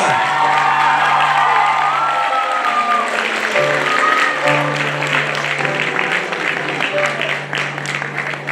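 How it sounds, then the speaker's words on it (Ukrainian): An audience at a Ukrainian music performance applauds steadily, with sustained clapping, some cheers and a few voices mixed in throughout. "Більше оплесків, друзі, будь ласка."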